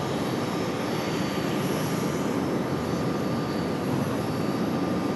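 A Delta Airbus A321 jet at Raleigh-Durham International gives a steady, loud broadband engine roar with a faint high whine, holding even throughout with no voices.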